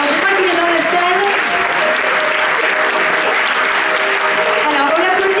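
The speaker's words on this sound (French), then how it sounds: "Alors on l'applaudit jusqu'au bout, jusqu'à ce qu'il nous rejoigne sur scène" Steady applause fills a hall for the mayor at the Miss Côte d'Or 2023 pageant, dense and continuous throughout, with an announcer's voice and musical tones carrying over the clapping.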